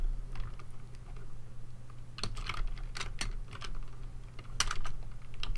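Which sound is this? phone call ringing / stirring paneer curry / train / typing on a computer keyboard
typing on a computer keyboard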